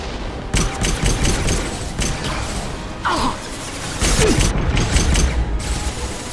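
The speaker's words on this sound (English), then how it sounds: "Firing an impact shot!" Mass Effect Legendary Edition combat: an impact shot weapon fires amid loud mechanical clanks and bursts of gunfire, layered over steady, dense battle noise.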